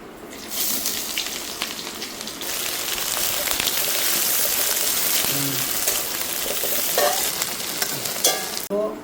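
Chopped onion and whole spices, cumin seeds and whole garam masala, hiss and crackle in hot oil for a Bengali pork curry, a loud, steady frying sizzle with occasional stirring scrapes and no voices.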